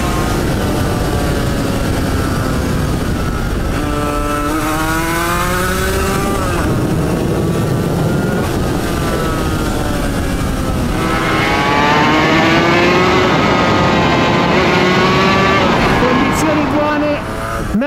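A Suzuki RGV 250 two-stroke motorcycle engine revving on a road, repeated rising and falling buzzy wails climbing high before easing off, loud and close, with wind noise and a voice talking over it.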